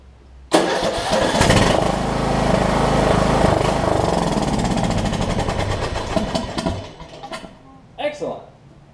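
A Craftsman LT1000 riding mower with hard-starting trouble cranks and fires, its small engine running loud and close for several seconds before sputtering and dying out with a couple of last coughs.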